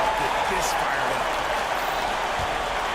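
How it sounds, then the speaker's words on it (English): Steady crowd roar from a basketball video game arena, dense and continuous at high volume throughout, with a commentator's voice blending into the noise. "you gotta love hearing a crowd get this fired up"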